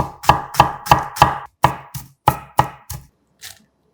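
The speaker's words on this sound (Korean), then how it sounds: "양파 약간도 칼집 여러 번 넣고 작게 잘라 담고" A knife chops an onion into small pieces on a cutting board, about nine crisp, evenly spaced strikes close up, then a brief pause and one last lighter cut.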